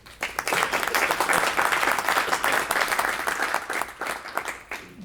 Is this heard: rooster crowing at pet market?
no